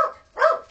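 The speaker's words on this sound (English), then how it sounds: "he's barking" A pet dog at home lets out two short barks, the first fading quickly and the second stronger and slightly longer, close by, with no talk over them.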